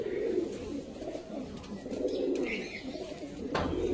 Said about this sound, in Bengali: লফটে শুধু আন্ধা পায়রা আজকে দেখাবো আপনাদেরকে